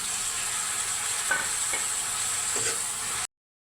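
Tomato pieces dropped into hot oil with curry leaves for a spinach tomato curry, a steady close sizzle with a few soft knocks of stirring before it cuts off abruptly.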